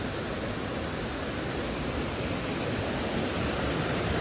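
Waterfall at Tad Nong Teum in Pak Song, Champasak: a constant, dense roar of falling water, steady and unbroken, with no voices.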